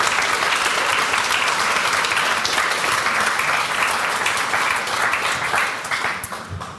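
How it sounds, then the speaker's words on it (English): Sustained audience applause at an awards ceremony for a climate hackathon, dense steady clapping from a full room that stays loud throughout and starts to thin out at the end. "Round of applause for them."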